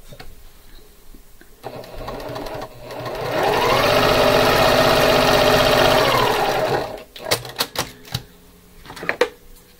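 A sewing machine stitches fabric in a fast, steady whirring run of several seconds, rising from and dropping back into quieter handling, followed by a cluster of sharp clicks.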